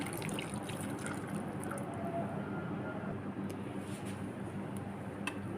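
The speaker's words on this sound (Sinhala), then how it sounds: "වතුර ටිකක් එකතු කර ගන්නවා." Water pours into ginger-garlic paste in a kitchen blender, a steady close-up trickling wash that runs unbroken from start to finish at a fairly even level.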